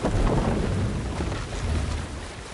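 A thunderstorm at sea in the video game Valhalla: steady loud rain and rumbling thunder fill the whole stretch, a dense continuous roar with no talking.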